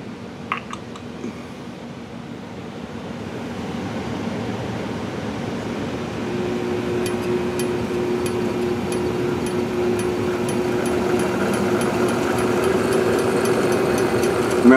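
A Bridgeport milling machine driven by a treadmill motor hums and whines steadily, starting up and building slowly in loudness, with a faint tonal drone and light mechanical ticking.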